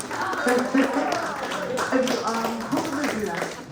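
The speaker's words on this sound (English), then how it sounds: "Y'all was clapping." Scattered clapping from a group, moderately close, blending with a murmur of voices and a few tapping hits.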